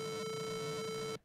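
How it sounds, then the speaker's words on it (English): Freeboy's default tone in LMMS, a Game Boy-like chiptune synth holding one bright, buzzy square-wave note for about a second before cutting off abruptly, steady and fairly quiet. "Freeboy sounds like this by default."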